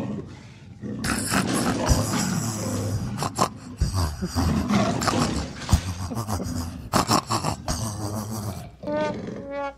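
A man's loud snoring that resembles a tiger's roar comes as harsh, growling rasps close to the microphone, continuing almost without pause throughout.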